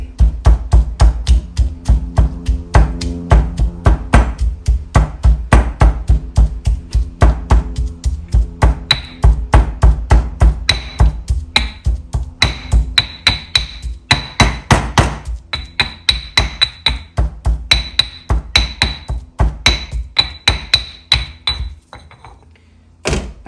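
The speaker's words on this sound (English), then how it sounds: "I pounded the garlic, turmeric, and the kachai into my mortar and pestle" Garlic, turmeric and kachai are pounded in a mortar and pestle, giving a long run of steady, evenly spaced heavy thuds with faint clinks. The pounding is close and loud and goes on without talk.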